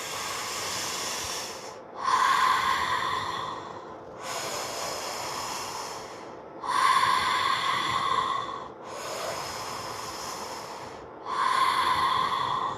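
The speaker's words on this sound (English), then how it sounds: "we are going to breathe in through the mouth and out through the mouth" Slow, deliberate breaths in and out through the mouth during a fascia exercise class, loud and close, each breath about two seconds long and separated by short pauses, with no talking.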